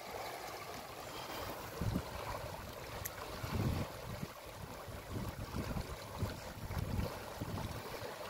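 Floodwater rushing past at night in a village stream during net fishing, a steady broadband wash with bursts of splashing and wind buffeting the microphone, moderately faint and without talk.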